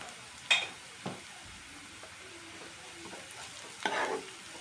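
Masala with turmeric fries in a pan over medium-high heat, a faint steady sizzle broken by a few sharp stirring scrapes.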